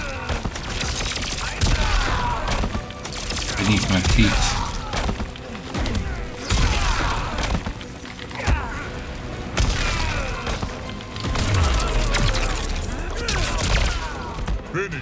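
Repeated heavy blasts and crashing impacts rumble in waves throughout in the video game Mortal Kombat 1, with a voice speaking briefly among the noise.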